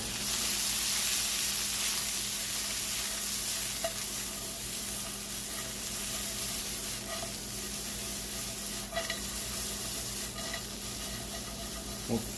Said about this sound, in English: We'll fry that for a couple minutes